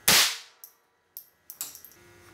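A single sharp .22 caliber gunshot cracks loudly at the start, fired at a match-lighting rig, followed by a few faint metallic clinks and rattles as it dies away.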